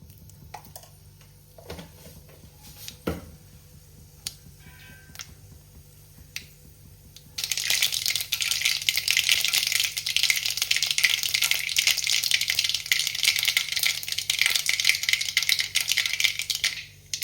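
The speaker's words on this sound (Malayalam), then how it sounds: "കടും എല്ലാം പൊട്ടി തീർന്നിട്ടുണ്ട്." Mustard seeds spluttering in hot coconut oil in a pan: after a quieter stretch of scattered clicks, a dense, steady crackle of popping and sizzling starts abruptly and continues close and loud to the end.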